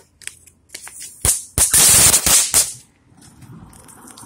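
Short-fused birthday fireworks popping outdoors in a quick run of sharp, loud cracks and bangs, a few isolated pops first, then a dense cluster of blasts, fading into quiet background noise.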